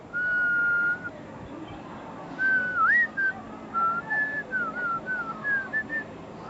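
A man whistles a signalling call, first with one long steady note, then with a string of short sliding and rising phrases, clear and close over a quiet background.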